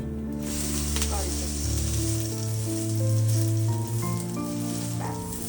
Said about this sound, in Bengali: এটাকে একটু লাল লাল ক্রিস্পি করে ভেজে নিলে তো আরো বেশি খেতে ভালো লাগবে